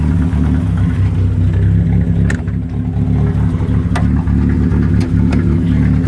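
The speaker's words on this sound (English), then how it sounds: "it's a smooth running engine" A 1986 Dodge Omni GLHT engine idles steadily with the hood open, a continuous low, smooth rumble close up, with a few faint clicks over it and no talking.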